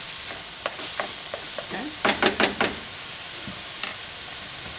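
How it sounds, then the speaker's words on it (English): Minced meat in a Bolognese sauce being stirred in a hot pan, with a soft steady sizzle and a short burst of scraping stirring strokes in the middle; someone says a brief word. "Giving the mince a stir as well at the same time."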